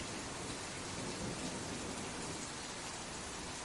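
Steady, dense rainfall with a deep rumble of thunder underneath, a continuous broadband wash of rain on surfaces that stays even and immersive throughout, with no voices.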